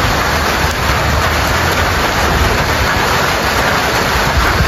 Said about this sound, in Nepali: यहाँ ठुलो पानी पऱ्यो